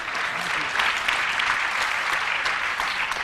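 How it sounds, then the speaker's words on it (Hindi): Audience clapping at a Hindi poetry gathering, a thick continuous burst of many hands heard close and loud from start to finish. "इनके सम्मान में ताली बजाओ"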